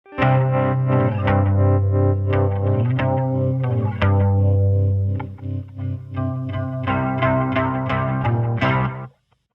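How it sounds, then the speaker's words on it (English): An electric guitar rings out with a pulsing tremolo and short slapback delay repeats, strumming sustained chords loudly before cutting off abruptly at the end. "So that's what Hayden's put on this electric guitar"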